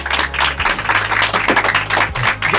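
A small group claps hands together in a loud, dense burst of applause lasting a couple of seconds, with broadband clap hits stacked over a low background hum.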